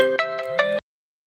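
A short electronic ringtone plays a few bright, melodic tones in quick succession, then cuts off abruptly into silence.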